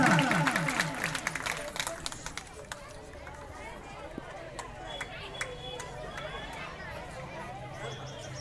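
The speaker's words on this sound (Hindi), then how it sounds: "जोरदार तालियां सभी मोहल्ले वासियों की तरफ से रतन लाल जी बंजारा।" Sustained applause from a crowd at a school annual function, dense clapping with some chatter mixed in, fairly distant and steady throughout.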